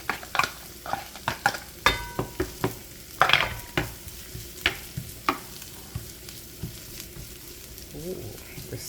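Onion frying on low heat in a pan while being stirred, with repeated scraping strokes of a utensil at a steady rhythm over a soft sizzle, close and fairly quiet.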